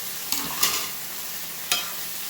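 Pepper, squash, kale and onion tossed into a hot pan, a steady sizzle broken by a few sharp bursts as the vegetables land and get stirred.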